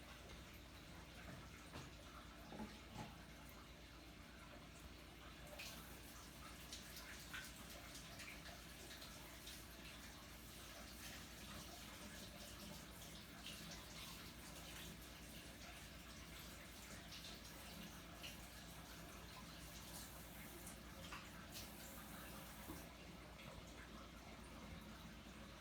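Hands being washed under a running kitchen tap, a faint, steady stream of water splashing continuously with slight changes as the hands move, heard alone without talking.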